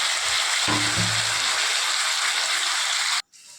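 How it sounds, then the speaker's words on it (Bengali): Grated onion fries in oil for a Bengali fish curry, a constant bright sizzle with a brief low knock early on, cutting off abruptly near the end. "গ্রেট করা পেঁয়াজটা দিয়ে দিয়েছি, লাল লাল করে ভেজে নেব"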